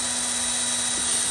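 A small drill whines steadily at high speed with a constant tonal hum, boring a hole in a jumbo candy corn for an eye hook, close and continuous throughout.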